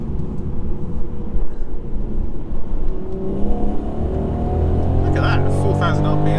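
A 2019 Mercedes C300 engine revs hard from inside the cabin, its rising drone stepping through quick gear changes, loud and continuous with road and wind noise, then a brief pitch shift near the end.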